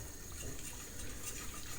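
Near-boiling water pours into a container to mix with pectin powder. It makes a soft, continuous hissing splash that stays fairly faint and steady throughout.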